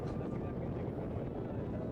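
Amphibious expedition vehicle entering the sea at Valdés peninsula and starting its water jet drive, a steady loud broadband roar with a low rumble, continuous throughout with wind and talk underneath.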